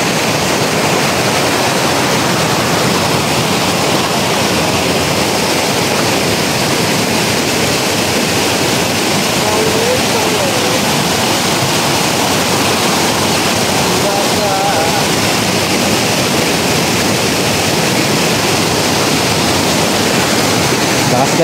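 A strong forest stream rushes loudly and continuously, a dense close roar of water with faint voices barely showing beneath it.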